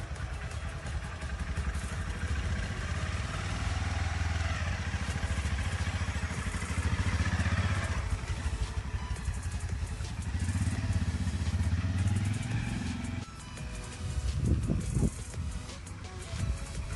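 A Royal Enfield motorcycle ridden by a 12-year-old boy learning to ride: a steady, thumping engine runs close and continuously, with a brief dip and some revving near the end.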